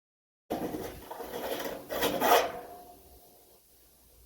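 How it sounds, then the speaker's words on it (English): Metal file rasping burrs off drilled holes in a steel stock tank, several scraping strokes running together at close range and fairly loud, then fading to quiet. "you're going to want to take a file and file off the burrs"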